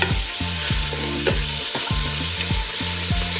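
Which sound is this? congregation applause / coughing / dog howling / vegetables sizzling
vegetables sizzling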